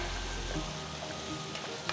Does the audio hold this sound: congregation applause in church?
no